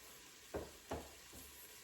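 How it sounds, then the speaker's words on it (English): Chicken frying in a pan is stirred, with a steady low sizzle underneath and two or three soft scraping strokes of the utensil, quiet and close. "So I'm going to go back to stirring the chicken again"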